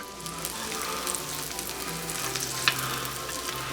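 Banana bread French toast frying in a pan, a steady soft sizzle and crackle running unbroken, quiet and close, with one small sharp pop partway through.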